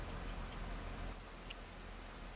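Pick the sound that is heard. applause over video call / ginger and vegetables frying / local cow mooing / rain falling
rain falling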